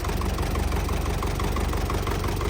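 A GAZ 3307 truck engine idling close by, a steady low rumbling chug with an even, rapid rhythm throughout.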